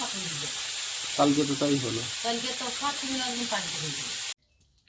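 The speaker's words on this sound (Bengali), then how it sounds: "একটু শুকনো লঙ্কা দিয়েছি তেলের মধ্যে" Dried red chillies crackle and sizzle in hot oil, a steady loud hiss broken off abruptly near the end, with a voice murmuring faintly underneath.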